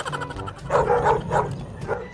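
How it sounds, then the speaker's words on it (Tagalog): A dog barks in a string of several yelping barks while chasing someone, close and fairly loud, with a little background voice noise. "hinahabol ako ng aso!"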